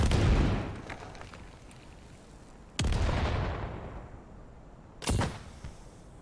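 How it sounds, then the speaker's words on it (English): Grenade blasts in the online shooter Battalion 1944: three sharp booming explosions, the first two with long rumbling decays, the last a shorter crack, loud and close with no talk over them. "Oh, that was a grenade."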